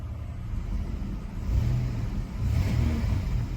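A Chevy Blazer engine runs after a throttle body mod, idling smoothly and close by, then swelling in two moderate revs before settling back to a steady hum.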